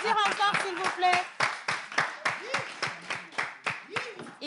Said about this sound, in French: Est-ce qu'on peut applaudir encore, s'il vous plaît?